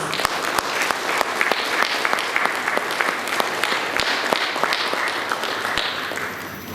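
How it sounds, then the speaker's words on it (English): A hall audience gives a round of applause for the staff at a charity's eighth-anniversary event; sustained, even clapping from many hands with a few sharper individual claps standing out, moderately loud throughout. "I ask you to join in giving our staff a thunderous round of applause."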